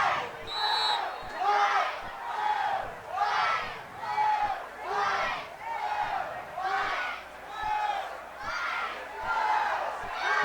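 Rhythmic crowd cheers at a high school football game, with the band and cheerleading squad chanting in repeated swelling bursts about once per second, loud and steady throughout.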